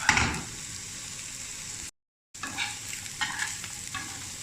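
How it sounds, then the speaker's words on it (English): Bitter gourd frying with browned garlic in a pan, a steady sizzle broken by repeated scraping stirs and tossing, with a short gap of silence in the middle. "Once the garlic starts to turn a little bit brown, time for the bittergourd to go in, and then just give it a good shake up."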